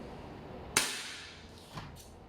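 A KJ Works CZ Shadow 2 toy pistol fires a single sharp, loud crack that decays quickly, followed about a second later by a fainter mechanical click, with no talk.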